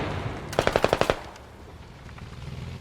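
A quick burst of about eight evenly spaced gunshots from automatic weapon fire in the Squad video game, sharp and moderately loud over a low steady background hum, followed by quieter ambience.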